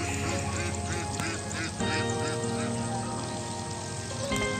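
Gungsi ducks quack repeatedly and close, a dense flock of nasal calls overlapping in a continuous chatter with occasional louder honks.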